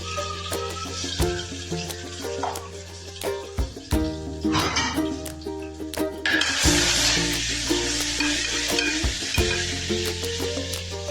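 Garlic paste hits hot oil already holding mustard seeds and cumin, cooking for khichdi, giving a steady close sizzle that swells louder midway, with background music throughout.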